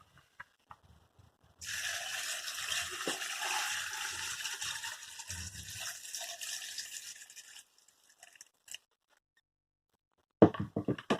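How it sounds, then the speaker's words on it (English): Bait liquid pours in a steady splashing stream over carp fishing boilies for several seconds, stops, then a few faint drips and a sudden clatter close by end the pour. "So I guess the next stage is to pour it over the boilies"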